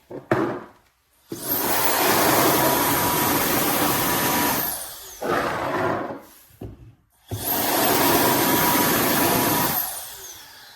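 An ohyes brushless high-speed air duster with a 100,000 RPM motor, fitted to a Milwaukee battery, blowing in several loud sustained bursts of rushing whine separated by brief pauses, close up.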